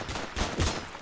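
Gunfire in a Roblox game sounds as a short burst of rapid shots, a few quick cracks over about a second, moderately quiet.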